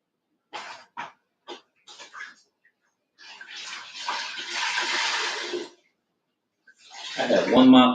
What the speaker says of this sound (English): What I'm doing is rinsing my mop out.